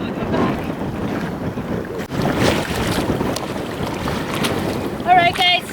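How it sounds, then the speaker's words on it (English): Strong wind buffets a sailboat out on the water, a constant loud roar of gusts over the microphone with waves and hull noise beneath, and a brief voice sound near the end. "The wind's too strong, so I can't look cool and make my cookies at the same time."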